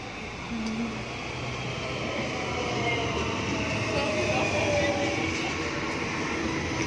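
Steady rumble and rolling clatter of a crowded train running continuously nearby in Barcelona, with faint voices under the noise.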